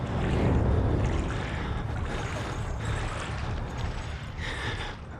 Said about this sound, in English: Towards the end of this level, you are in a huge pool of waist-high water.